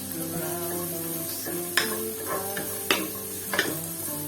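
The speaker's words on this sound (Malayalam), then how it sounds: "ഇനി അതിലേക്ക് നമ്മൾ കട്ട് ചെയ്ത് വെച്ച ക്യാരറ്റും ഇട്ട് കൊടുക്കാം. ഒന്നുകൂടി ഒന്ന് വഴറ്റിയെടുക്കാം." Chopped carrots sautéed with onion and green chilli in a pan, a soft sizzle under music with a few clinking stirs of a spoon against the pan.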